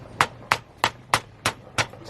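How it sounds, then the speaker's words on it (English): Six evenly spaced, sharp hammer taps drive Energy Suspension polyurethane subframe bushings, with their metal inner sleeves, into place on a car. The strikes are close and loud over a low background hum. "I'm just using the hammer"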